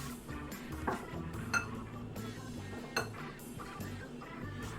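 A whisk is set aside among cast iron pans and utensils on a kitchen counter, giving light clinks and clanks of metal against metal at irregular moments over a soft background hum.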